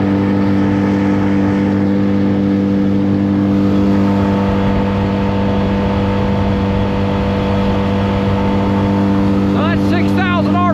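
A boat engine held at 6,000 RPM on a river cruise drones steadily and loudly throughout, with a few faint chirps rising over it near the end.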